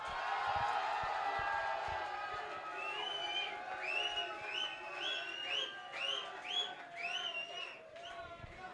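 A studio audience claps and cheers for the contestants of a TV game show, loud at first and then fading, while a host talks and excited high voices call out over the crowd.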